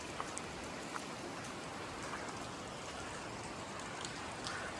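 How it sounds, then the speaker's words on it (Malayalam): Light rain falling steadily outdoors at a hill spot near a waterfall, a soft, even patter that continues throughout with no voices. "നല്ല മഴയുണ്ട്, നല്ല ചെറിയ മഴയും"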